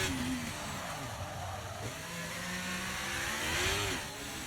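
A Ferrari race car in a historic racing qualifying session on a Tilke-built Chinese circuit, its engine note rising and falling as it passes, heard fairly close and at steady loudness over a constant background hum.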